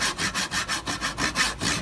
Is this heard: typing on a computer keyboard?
no